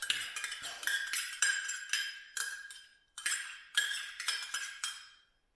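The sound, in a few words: scraping the rest of the yogurt out with a utensil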